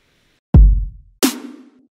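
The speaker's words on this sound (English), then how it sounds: "The next part was just adding a basic kick and snare pattern." A booming electronic kick followed by a snappy snare hit, two clean drum strikes alone.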